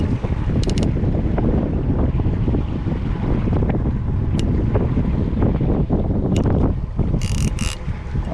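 Strong wind buffets a fishing boat out on a lake, a loud continuous rush of gusty noise with mechanical creaks and clatter mixed in, and no talking.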